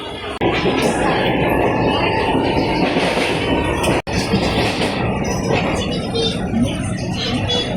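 Continuous rumble and rattle from inside a moving Mumbai train, loud and steady, with a brief cutout partway through.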